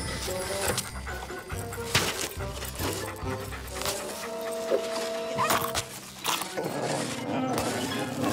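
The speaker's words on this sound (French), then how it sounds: "Gentil toutou, qui veut un bon biscuit pour chien?" A dog pants and whimpers in a French children's cartoon, quick breathy bursts over background music, with sharp effects in between and brief speech.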